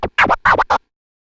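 DJ turntable scratch combo pairing reversed swing flares with a slow reversed Autobahn scratch: four quick, loud scratched bursts in a choppy rhythm, then silence.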